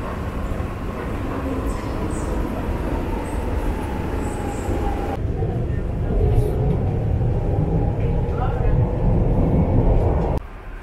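A Brussels metro train on subway line 5 rumbles steadily for about ten seconds, a low, dense rolling roar with a shift in tone midway and a sudden drop near the end, with faint background voices.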